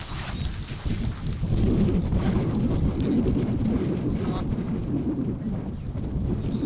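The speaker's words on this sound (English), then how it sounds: "that wind's picked up." Steady wind roars across an open golf course, a broad continuous rumble buffeting the microphone throughout with no break.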